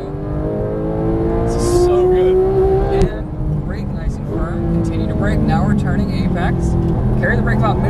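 A Porsche 991 GT3 accelerates at full throttle on a racetrack, its engine climbing loudly through the revs, with a gear change about three seconds in before pulling hard again as a voice talks over it.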